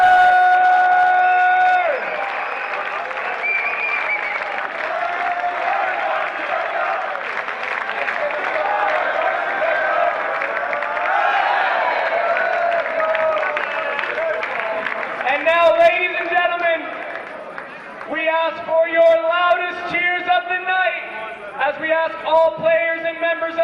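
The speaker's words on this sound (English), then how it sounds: "Big round of applause!" A crowd applauds and cheers at a men's lacrosse medal ceremony in Radotín as Team Germany is called up for bronze; sustained clapping and whoops ring out beneath an announcer's amplified voice and music.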